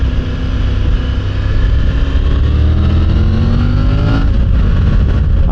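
Triumph Tiger 900 Rally Pro motorcycle (2024) engine under way, a loud continuous drone with rising and falling harmonic tones as the rider shifts and accelerates along a road, steady throughout with no talking.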